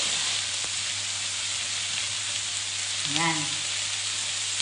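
Garlic, onion and cabbage stir-fry in a hot pan with a steady, close sizzle and a brief clatter of stirring partway through, while a voice says a word.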